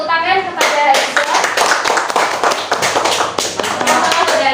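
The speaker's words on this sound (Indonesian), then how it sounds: "Oke, beri tepuk tangan kepada Hafizah" A classroom of high school students claps for a classmate who presented an answer at the front, a lively, close patter of hands with a brief voice at the start and again at the very end.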